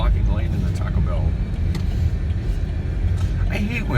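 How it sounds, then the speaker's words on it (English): Urban road traffic as a bus slows to stop ahead, with a steady engine rumble and passing vehicle noise, fairly loud and continuous throughout. "there's a bus getting ready to stop in front of me"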